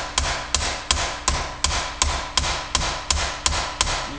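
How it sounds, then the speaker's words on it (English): A hammer strikes sheet metal repeatedly while flow forming a profiled aircraft rib over a form block, about a dozen evenly spaced, ringing metallic blows in a steady rhythm, close and clear with no talk. "You can see I'm not hitting very hard, but it's just the mass of the hammer"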